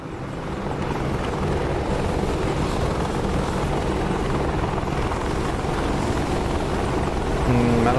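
An Apache helicopter approaches in a modern war video game, a steady loud rotor drone that swells slightly louder near the end, with a voice talking briefly over it.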